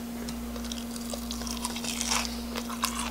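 Close, crisp crunching bites and chewing of a crispy fried wild chive pancake, several sharp crackles in a row over a low steady hum, no talking.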